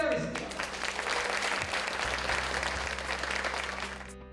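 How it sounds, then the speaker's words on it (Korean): A seated audience at a labour forum for freelancers and fixed-term workers claps warmly to open a debate, a brief burst of steady applause after a short voice at the start. "여러분들의 박수로 토론 시작하겠습니다"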